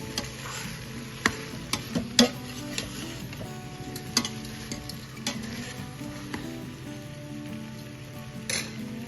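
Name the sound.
stirring potatoes frying in a pan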